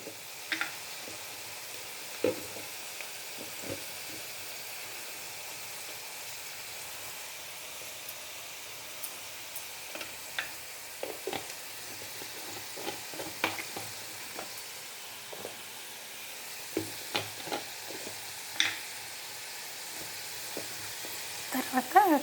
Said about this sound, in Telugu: ఇవి వేసినప్పుడు మనము పసుపు ఇవి వేసేద్దామండి, ఎందుకంటే ఈ వేడి మీద ఇవి పచ్చి వాసన లేకుండా ఉంటుందండి.